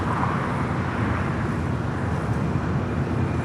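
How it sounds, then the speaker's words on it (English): An American Airlines Airbus A321 bound for Boston takes off at LAX, producing a loud, steady broadband engine roar with wind-like rumble throughout, close and unbroken by talk. "Next takeoff is a flight to Boston, American Airlines Flight 1805. It's an A321."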